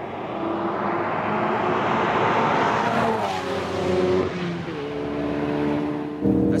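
A Ford Focus RS driven hard on a track, its engine droning steadily then rising and falling through gear changes as revs climb, close and fairly loud with no talk.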